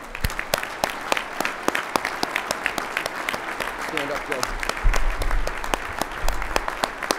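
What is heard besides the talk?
applause for pilots at board meeting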